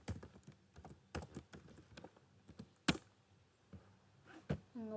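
Typing on a computer keyboard while writing code, with irregular clusters of close key clicks and a few sharper louder strikes, quiet between presses and no talking.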